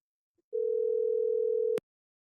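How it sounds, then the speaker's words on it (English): Single phone tone heard while calling an AI phone agent: one steady, clean electronic beep lasting about a second and a quarter, starting and stopping with a click, quiet and alone in near silence. "Now I want to check this created phone AI agent,"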